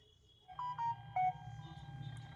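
A homemade Bluetooth speaker gives a connection tone: three short electronic beeps in quick succession over a low steady hum, then the hum continues alone.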